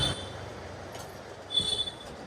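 Inside a moving train carriage, a steady low rumble of running wheels carries on with a brief high metallic squeal near the end, no talk.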